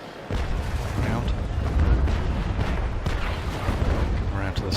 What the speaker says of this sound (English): Starboard side cannons here.